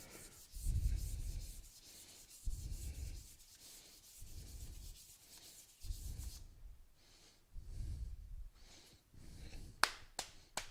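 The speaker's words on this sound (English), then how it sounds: "We're going to sand the whole thing at 320 and the whole thing at 400" Sandpaper at 320 and 400 grit rubs over a spinning wooden turning on a lathe in repeated rhythmic strokes, quiet and close, each pass rising and fading, with a few sharp taps at the end.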